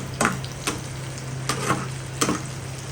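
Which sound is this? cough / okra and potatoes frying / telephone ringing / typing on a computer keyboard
okra and potatoes frying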